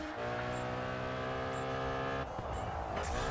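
An Audi race car in Grid 2 drives with a steady, loud engine drone and harmonic whine that shifts partway through, a gear change or passing moment, with no talking.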